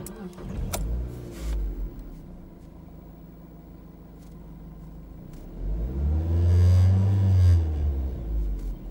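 A 2006 Mazda MX5 1.8i is started up, with a brief cranking burst followed by a low idle rumble that rises into a firm rev close by. There is no talking.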